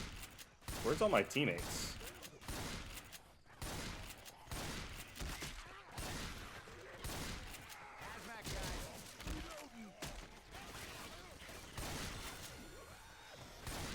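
Dense, rapid gunfire runs through a Left 4 Dead 2 fight, with bursts of shots layered over game noise and a player talking briefly early on.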